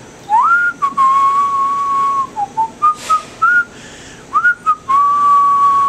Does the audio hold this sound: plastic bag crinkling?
no